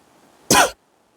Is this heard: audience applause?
no